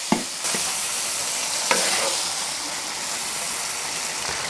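Pork stir-fries in a wok with a loud, hissing sizzle that fills the whole stretch, punctuated by a couple of sharp spatula knocks against the pan.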